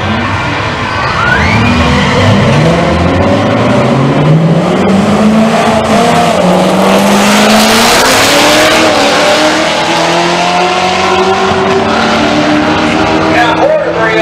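A C7 Corvette Z06 and a Mustang roll race side by side at a street car takeover in Bowling Green, Kentucky, engines revving loudly and climbing in pitch through hard acceleration with gear changes, close to the microphone, while a commentator talks over them.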